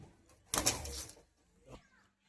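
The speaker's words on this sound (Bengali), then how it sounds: "বড্ড ছটফটে পায়রা" A pigeon coos close by in a short burst, followed by a brief softer call, with light rustling in between.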